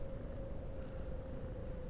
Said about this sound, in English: world's best noise. Cat purring.